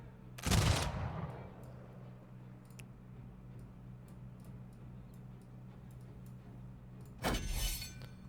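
Gunfire in a Humankind strategy-game battle: one loud, crackling burst near the start and another near the end, with faint scattered ticks in the quiet stretch between and no voices.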